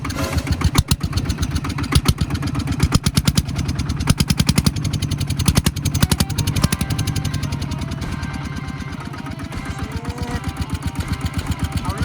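A Thai iTaek farm vehicle engine fitted with a 4-valve TSK exhaust pipe runs loud and close, its rapid steady exhaust pulses thumping continuously with no talk over it.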